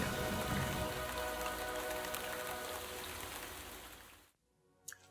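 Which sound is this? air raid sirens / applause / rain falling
rain falling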